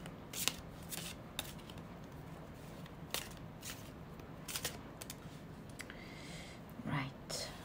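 Tarot cards are shuffled by hand in quick, crisp riffling bursts spaced irregularly through the quiet, close and soft, with faint whispering in between.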